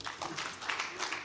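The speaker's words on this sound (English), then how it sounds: "Another round of applause for him." An audience at the 15th Abuja International Housing Show gives a brief round of applause for the Minister of Environment, a short, moderately loud wash of clapping with faint voices mixed in.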